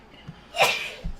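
A single short sneeze bursts out at close range, sharp and breathy, with faint low thumps before and after it and no talking.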